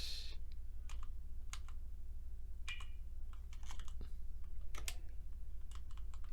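Keystrokes on a computer keyboard with an unusual AI-generated layout tap out in irregular, hesitant clusters, quiet and close over a low steady hum, with no talk.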